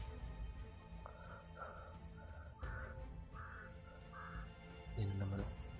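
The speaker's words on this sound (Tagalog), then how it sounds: "Yan naman yung boses na naman ng uwak." A crow caws several times out of thick, overgrown brush, somewhat distant, over a steady hiss of insects and a constant high whine.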